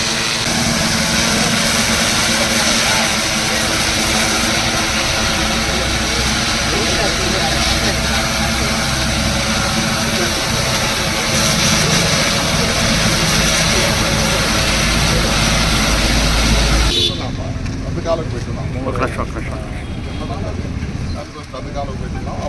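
A mosquito-control spraying drone flying over Naidupeta gives a loud, steady engine-like drone with a high whine for most of the clip, then cuts out abruptly, leaving quieter background noise.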